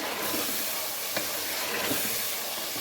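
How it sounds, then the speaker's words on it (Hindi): Whole spices and black pepper roasting in a pan over a high flame for bhuna gosht give a steady, close broadband sizzle and hiss, with a couple of brief stirring scrapes and no talk. "अब इसकी अच्छी से करेंगे भुनाई ताकि इन मसालों का जो कच्चापन है वो ख़त्म हो जाए"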